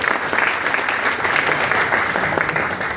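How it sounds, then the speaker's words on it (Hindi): Loud, sustained applause from a seated audience at a motivational talk, a dense continuous roar of many hands clapping for several seconds with no voices on top. "जोरदार ताली होनी चाहिए"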